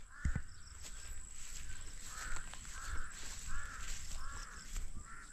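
Several crows caw repeatedly at a distance, harsh calls spaced through an outdoor background with faint rustling and a steady high hum.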